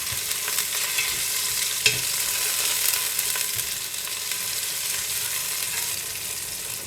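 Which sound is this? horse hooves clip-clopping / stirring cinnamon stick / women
stirring cinnamon stick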